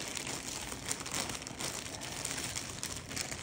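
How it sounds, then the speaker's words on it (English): Crinkling plastic wrap is handled close up around an elbow pad, a steady rustle of crackles and crumples running continuously for a few seconds with no talking. "Wrap it in plastic."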